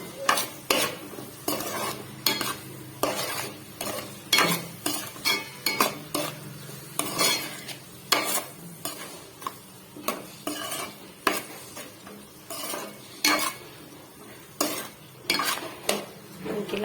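A spatula stirs a potato and spinach fry in a pan, making rhythmic scraping strokes about once a second over a light sizzle, close and with no talk.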